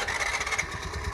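A Honda Activa scooter engine catches and runs with a low, throbbing putter, close by and brief.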